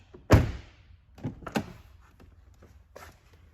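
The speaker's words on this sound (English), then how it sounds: "we're gonna go ahead and close and open the door just to light up the dash" Car door on a Buick Envision shuts with one heavy, solid thunk, followed by the softer clicks and thumps of the door being opened and handled again, close by with no talking.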